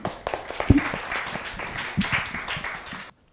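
An audience at a water governance conference session claps for a speaker in a short burst of moderate applause that tapers and stops abruptly after about three seconds.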